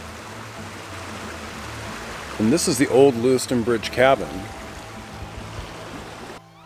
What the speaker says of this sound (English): A spring a spring stream running down into the river. I love that sound.